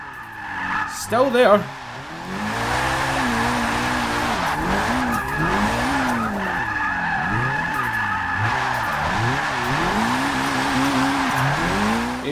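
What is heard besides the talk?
Mitsubishi Evo IX tires skidding while drifting, Forza 6 video game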